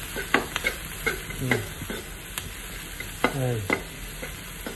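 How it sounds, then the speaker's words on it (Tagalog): Seasoned food being sautéed in a pan: scraping stir strokes recur over a steady close sizzle, with a brief spoken word in between. "Gisa lang natin yung gisa"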